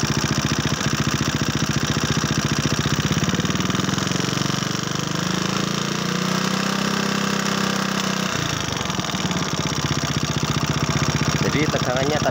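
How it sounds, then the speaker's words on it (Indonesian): A motorcycle engine with a battery-charging fault runs steadily, then the throttle is opened and the engine note rises and holds for several seconds before settling back to a constant drone. "Sekarang coba kita besarkan gasnya."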